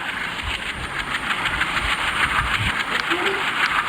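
A passenger train runs on rails on the way from Durgapur toward Kanpur, a steady rumbling roar with faint rhythmic clatter throughout, heard from inside the carriage with a voice talking over it.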